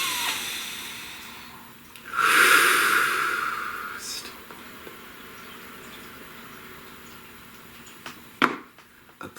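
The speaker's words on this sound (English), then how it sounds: "Please take a nice deep breath" A single deep breath in a quiet room, an airy hiss swelling for about two seconds and then easing off, with a faint click near the end.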